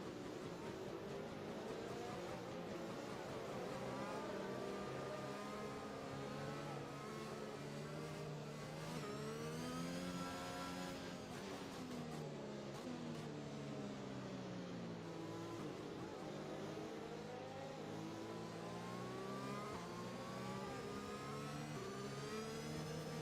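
Several F1 cars in a PC racing game on the Japanese Grand Prix circuit weave to warm their tyres, producing a continuous layered engine whine with rising and falling pitch sweeps as the cars accelerate and lift.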